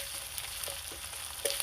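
Ginger frying in a little oil in a pan, a steady, close sizzle with a few soft pops and stirring clicks.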